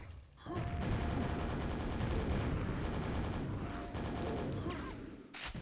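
Rapid mechanical rattling bursts of the super nailgun in Quake, Sega Saturn version, firing almost continuously for several seconds, dense and loud with brief gaps.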